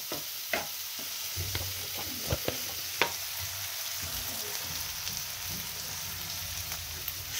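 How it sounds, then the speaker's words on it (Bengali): Koi fish frying in mustard oil mixed with a little white oil in a home kitchen, a steady close sizzle with occasional sharp pops and crackles throughout. "এটাকে হালকা করে ভাজা ভাজা হোক।"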